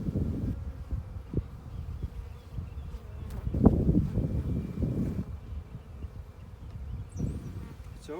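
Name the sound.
honey bees buzzing around an open hive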